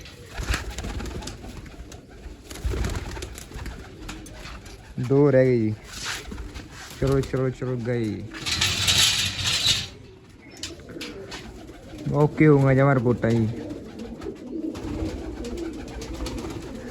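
Pigeons coo in a loft, giving several short rolling, throaty bursts close by, with quiet stretches between them. Someone talks intermittently over rustling and light movement.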